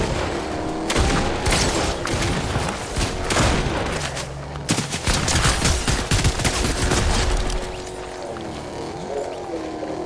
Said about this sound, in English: This is the turret in action.